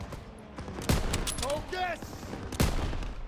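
Machine gun fire in Call of Duty: WWII during a World War II town-square firefight, sounding as loud broadband bursts amid battle clamor, with a shouted voice over the din.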